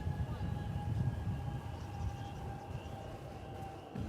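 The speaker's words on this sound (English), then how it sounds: "Splashdown. It's a 737-800 coming in from Santa Ana, California." A Boeing 737-800, American flight 2871 from Santa Ana, California, touching down at DFW Airport in late afternoon, heard as a steady, distant jet roar with a faint high whine held at an even level throughout.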